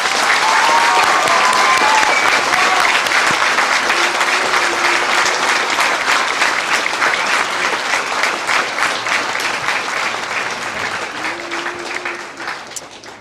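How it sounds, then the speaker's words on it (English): Large audience at a high school senior awards ceremony applauds the class of 2020 top ten academic achievers, steady loud clapping throughout that slowly thins toward the end. "Please join me in applause to recognize Estacada High School's class of 2020 top 10 academic"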